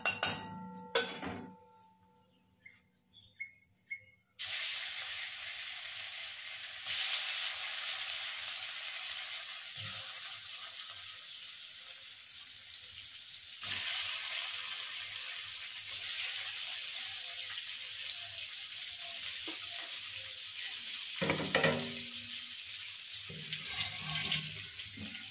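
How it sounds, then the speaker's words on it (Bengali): Paneer frying in hot oil in a wok, a steady close hiss and sizzle running throughout, broken by a few clinks of utensils near the start and occasional scraping. "পনিরটা একটুখানি জাস্ট ভেজে নেব"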